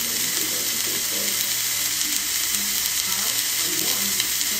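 Steak frying in a pan at home, cooked to medium-well, giving a steady broadband sizzle that fills the whole clip with faint stirring or scraping underneath and no talk.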